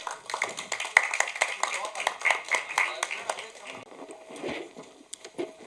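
An audience claps at a film success meet to welcome an actor, a moderate burst of clapping that rises and falls, with voices and mic noise underneath.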